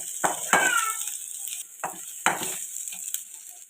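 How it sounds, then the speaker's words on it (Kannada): Onions fry in a pan for a ridge gourd milk sambar, with a soft sizzle broken by several short, loud bursts of stirring and scraping, close by. "ಈರುಳ್ಳಿ ಸ್ವಲ್ಪ ಚೆನ್ನಾಗಿ ಫ್ರೈ ಆಗಬೇಕು."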